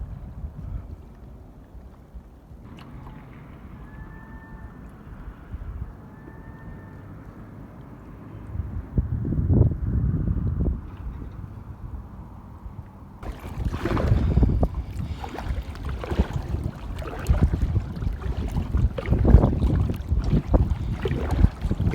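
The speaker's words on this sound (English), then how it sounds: "It is a tad bit windy," Warm wind gusting past a kayak on open water near a bridge in Cape Breton, rising from a soft steady rush into louder buffeting microphone wind noise in the second half.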